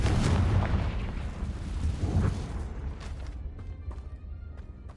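Confringo blasting spell explosions in Hogwarts Legacy, a wizarding game, played on PS5: a heavy, rumbling boom with a second burst, then a fading crackling tail of smaller pops.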